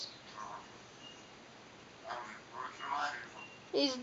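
An eclectus parrot mutters soft, garbled chatter in short bursts, quiet squeaky fragments and little warbles spread across the moment, ending with a brighter, louder chirp.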